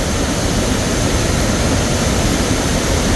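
A continuous, even rush of falling water from a waterfall in Chiang Mai, loud and unbroken, with no voices or other sounds.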